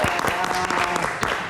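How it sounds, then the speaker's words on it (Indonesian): Brief burst of studio audience clapping on a talk show as a young singer is welcomed, close and lively, with a voice speaking over it. "Kita kasih tepuk tangan lagi"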